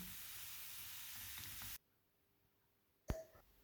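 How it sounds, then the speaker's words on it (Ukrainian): Steady broadband sizzling of grated carrot and vegetables frying in a hot pan, then it cuts off abruptly into near silence before a brief clatter. "І все разом протушуємо хвилин 5 на розігрітій пательні"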